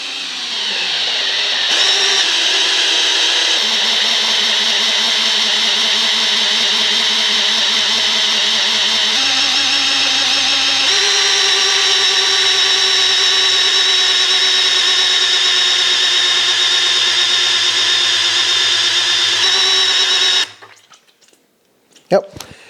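A power drill spins the oil pump of a 1972 Dodge Challenger's 440 engine counterclockwise to build oil pressure. It makes a loud, steady high whine that runs for about twenty seconds under talk, then cuts off abruptly.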